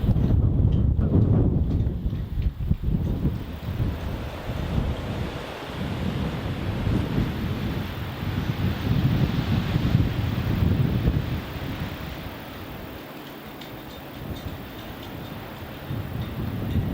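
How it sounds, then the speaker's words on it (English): Strong wind roars across Palo Duro Canyon in Texas, a loud, continuous rushing buffet that swells and eases slightly over about seventeen seconds, heavy on the microphone with no voices. "The wind is incredible."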